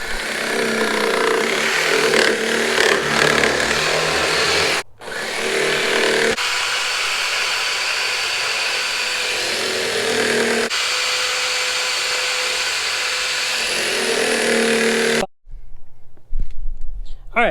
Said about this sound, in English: I drilled the spot welds out, but it wasn't separating